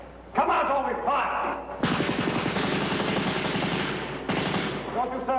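Rapid machine-gun bursts fire loudly in a 1956 film-noir drama scene, two long rattling volleys with a brief pause between, mixed with voices.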